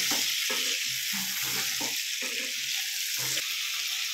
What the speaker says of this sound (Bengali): এইভাবে আলুগুলো ভাজাভাজি হোক